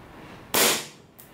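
Airsoft pistol shot at goggles: a single sharp, loud crack with a short decaying burst, followed by a fainter second tick, close by and with no talk over it.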